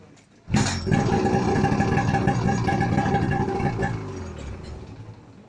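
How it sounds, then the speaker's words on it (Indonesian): An old Vespa scooter engine starts abruptly and runs with a rattly, buzzing idle, holding steady before gradually fading down near the end. "Suara Vespa lama."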